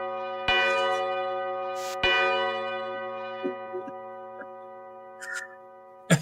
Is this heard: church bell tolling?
yes